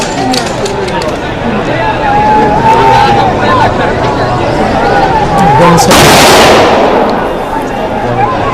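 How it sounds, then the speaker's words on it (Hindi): A rifle volley fired as a three-round salute at Ajit Pawar's funeral rites bursts out as one loud crack. A crowd murmurs and a voice talks throughout. "या तो 21 तोपों की या फिर राइफल से 3 राउंड की फायरिंग की जाती है"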